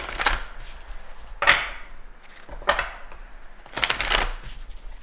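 Oracle cards shuffled by hand, heard as three or four close, crisp riffling bursts separated by short pauses, with no talking.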